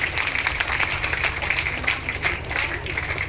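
Audience applause at a Bhagwat Katha religious gathering, honoring a visiting aunt: dense, steady clapping from many hands, moderately loud and sustained throughout with some crowd murmur beneath.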